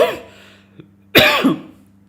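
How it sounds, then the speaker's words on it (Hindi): A male lecturer, hoarse after a full day of teaching, lets out a sharp, close cough burst with a rough trailing rasp, preceded by a short throaty sound and a faint click. "सॉरी खांसी आ रहा है यार"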